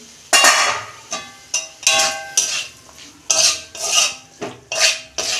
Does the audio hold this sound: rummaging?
yes